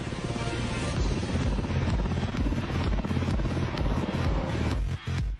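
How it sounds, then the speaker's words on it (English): A pilotless military helicopter in flight, its rotor throbbing in dense rapid low thumps under a loud steady mechanical roar, continuous and close until it dips briefly near the end. "There's no pilot inside this helicopter."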